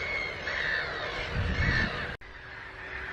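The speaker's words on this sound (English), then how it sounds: "the black-headed gulls has arrived, not in big numbers, but you can certainly hear them crying out their" Black-headed gulls cry out in harsh, repeated calls, moderately close, in a few bursts over about two seconds, followed by quieter background after a brief break.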